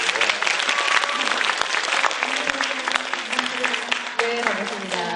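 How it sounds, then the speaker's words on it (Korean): At a humanities lecture event, an audience greets an incoming speaker with loud, continuous applause, thick clapping with some cheering and background voices, joined near the end by a brief musical tone. "크게 박수 주세요."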